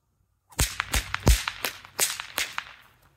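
A rapid volley of sharp whip cracks, about eight snapping bursts in quick uneven succession, close and loud with no talking.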